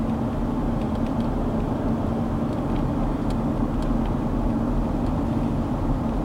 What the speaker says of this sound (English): Early afternoon traffic leaving Disney World.